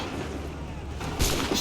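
Musket volleys in Assassin's Creed 3, a loud, booming burst of gunfire arriving after a stretch of dense battlefield noise, with a second crack following close behind.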